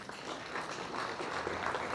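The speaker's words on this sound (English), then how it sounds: "And that deserves a big round of applause too." Audience applause at a city's State of the City address in Baker, a steady wash of many hands clapping, fairly quiet and distant, with no break over two seconds.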